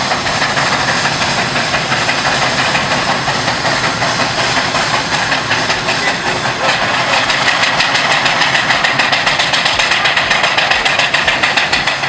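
Steam traction engines, a New Zealand McLaren and a tandem compound, working in a field at Welland, give a loud, continuous hiss of steam with a steady mechanical beat underneath throughout.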